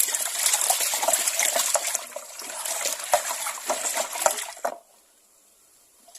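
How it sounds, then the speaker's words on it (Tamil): Phenyl base is poured into RO water, a gushing, splashing stream of liquid for several seconds that tapers to drips before falling quiet. "இப்போ 250 ml நம்ம பினாயில் பேஸ் ஆட் பண்ணிடலாம்"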